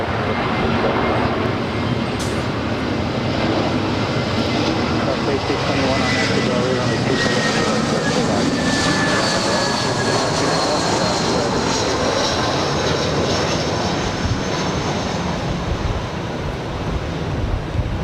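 A Southwest Airlines Boeing 737-700 jet from Reno lands on runway 24 right at Los Angeles airport, its engine roar loud and continuous throughout, with a broad rushing wash like wind.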